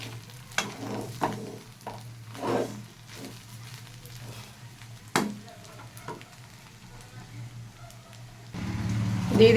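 Milk poured into pulao in a pan and stirred, soft close scraping and sizzling with irregular clinks of the spoon, ending in a louder steady bubbling hiss.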